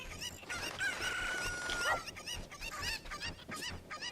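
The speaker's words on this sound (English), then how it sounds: "I cannot pick up these chickens." Chickens cluck and squawk in a video game, bright repeated calls over busy game sounds and music, with a drawn-out tone in the middle and no voices.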